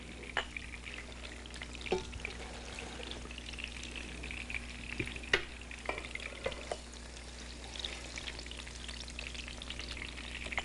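Onions frying in flavoured oil in a pan while cooking Sicilian dishes, with a soft, steady sizzle and scattered crackles and scraping taps from the pan, fairly quiet and close.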